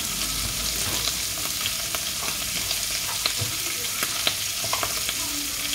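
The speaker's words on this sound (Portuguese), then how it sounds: "Queimar essas gordurinhas dele e dourar, ele tem que ficar crocante." Steady crackling sizzle of guanciale frying in a pan, with occasional sharper pops and light stirring scrapes, continuous and close.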